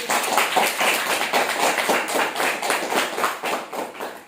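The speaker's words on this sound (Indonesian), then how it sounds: "Septi, tepuk tangan untuk Septi" A group of students claps for a classmate who placed second, a close, steady, rhythmic run of many hands clapping for several seconds without talk.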